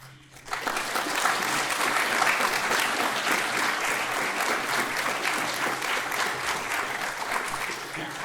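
An audience at a spring graduation award ceremony for a university civil and environmental engineering department breaks into sustained applause, loud and even, filling the room for several seconds.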